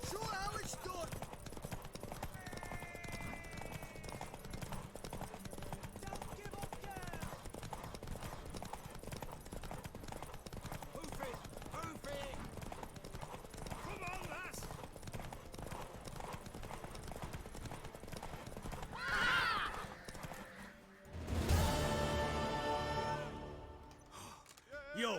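Rhythmic horse hooves clip-clopping throughout, with a neigh near the end, amid game-like sound effects and spoken voices from the video game The Witcher 3: The Wild Hunt.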